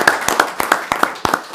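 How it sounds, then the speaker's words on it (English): A small group claps at a Franklin County, Washington board of commissioners meeting, with sparse, uneven handclaps close by over a short stretch and no talk. "maybe a round of applause"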